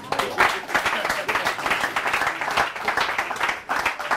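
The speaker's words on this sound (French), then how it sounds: "Je voudrais qu'on applaudisse quand même." An audience at an evening community gathering claps in a brief, uneven round of applause, individual claps audible and rising and falling in waves at moderate volume.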